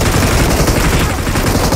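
Sustained automatic machine-gun fire in a haunted-castle battle video game, dense rapid bursts filling the whole stretch at steady loudness with no talk over it.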